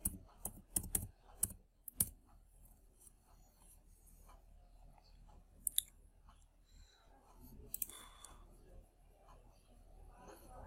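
Typing on a computer keyboard: scattered quiet clicks and sharp key taps in short bursts, with soft pauses and faint room noise between them.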